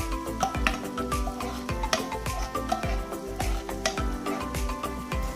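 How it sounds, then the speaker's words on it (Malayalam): White sauce is stirred after salt and pepper go in, with a spoon scraping and tapping against the pan in a steady repeating rhythm over soft background music. "എന്നിട്ട് അത് നന്നായിട്ടൊന്ന് മിക്സ് ചെയ്തെടുക്കാം."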